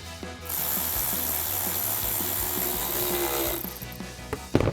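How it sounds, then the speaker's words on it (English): A ratchet with an 8mm socket tightening a hose clamp on a RAM 1500 cold air intake, with rapid, regular clicking of the pawl under a constant mechanical whir, close and alone, ending with a sharp knock. "grab our ratchet with our 8mm socket and tighten that down"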